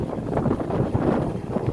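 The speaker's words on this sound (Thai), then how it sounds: "แต่ลมแรงนะคะช่วงนี้" Strong wind sweeps across a river near a tugboat, roaring and buffeting the microphone in a continuous gusty rush with no voices.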